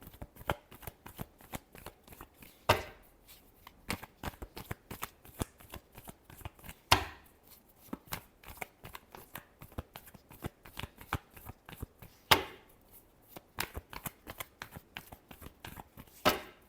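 A tarot deck is shuffled by hand close up, a long run of quick crisp card flicks and slaps in uneven rhythm with a few louder snaps, no one speaking.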